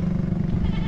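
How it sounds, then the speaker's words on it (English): A goat bleats once, close by, with a low rumbling background throughout. "He reached to say hello to a goat."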